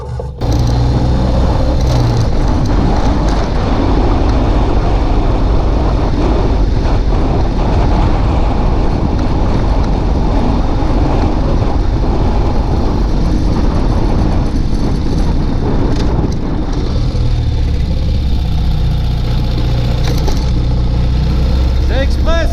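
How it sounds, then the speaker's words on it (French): A Ural sidecar motorcycle engine, a little hot, labors loud and steady as it climbs a steep hill in Guerrero, Mexico, a continuous close drone with wind noise throughout. "là il y a une grosse montée. On va essayer de la prendre un peu à fond, mais le moteur il est un peu chaud"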